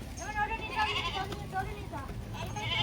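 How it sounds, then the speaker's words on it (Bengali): Several young goats and kids bleating at a village homestead, a few short cries close by over a steady background and talk. "অনেকগুলো ছাগল আছে এদের"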